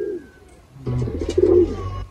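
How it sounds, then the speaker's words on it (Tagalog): Racing pigeon cooing close by, a soft, low rolling coo that swells to a louder burst in the second half, heard alone without talk. "Yun mga kalapatids, ito si Bulag, oh"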